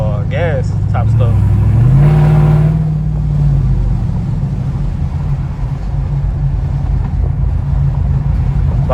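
A modded race truck engine pulls at part throttle, its loud, close growl sweeping up in pitch over a couple of seconds before settling into a steady rumble mixed with wind and road noise.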